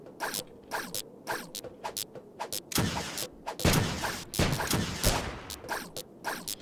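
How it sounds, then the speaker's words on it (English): Missile barrage weapon firing in the video game Starbound, a rapid string of sharp bursts and crackling explosions in quick succession, moderately loud and alone. "Missile barrage."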